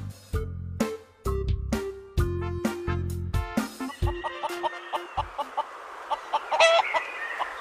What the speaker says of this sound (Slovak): Toto je sliepka a jej kuriatka.